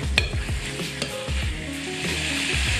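Chicken mixture for tahchin sizzles and fries in a pan while being stirred, with steady frying crackle and scraping strokes of the spoon running continuously throughout.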